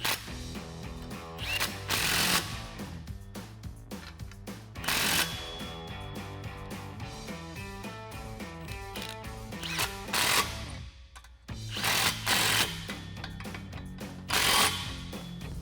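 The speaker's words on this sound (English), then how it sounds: "then we can go ahead and tighten up these clamps with our 15 millimeter socket." A ratchet with a 15 mm socket tightens exhaust clamps on a 2018-2023 Mustang GT cat-back exhaust install. Loud bursts of clicking repeat every few seconds over steady background music.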